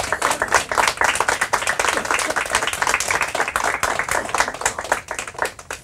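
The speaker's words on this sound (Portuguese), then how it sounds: "Palmas para todos eles." A smaller crowd at a school quiz event claps, with individual hand claps clearly separable in a brisk, uneven patter that holds steady for about six seconds.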